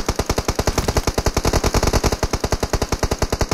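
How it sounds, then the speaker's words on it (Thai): Sustained automatic gunfire rings out in the PUBG Mobile battle royale game, with rapid, evenly spaced shots in a long continuous burst. The shots are loud and close, with no talking. "ยิงไรกันนะยิงไรกันนะแจมด้วยสิ"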